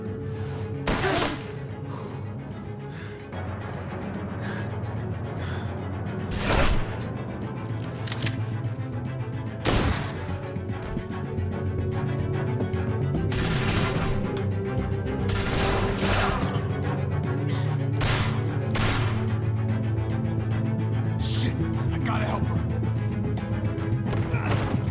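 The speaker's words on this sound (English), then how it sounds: "I hear gunfire." Gunfire erupts in the video game The Walking Dead: A New Frontier, loud single shots and rapid bursts scattered over a tense ambient background, growing denser toward the end with little talk.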